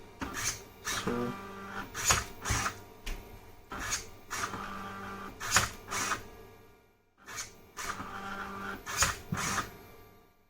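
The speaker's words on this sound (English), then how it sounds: "So it has cut 3 wires now" An Arduino-powered wire cutter runs through repeated cycles, its motor whirring and the blade snapping through wire several times in an uneven mechanical rhythm, close and moderately loud, with no talking.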